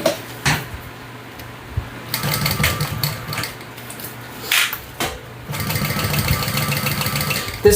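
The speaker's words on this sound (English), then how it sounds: "I'm just going to sew across the top at 1/8 of an inch seam allowance to top stitch" A sewing machine top-stitches across the top of a fabric hip bag with purple thread, running in bursts of rapid mechanical stitching separated by short pauses, close and clear.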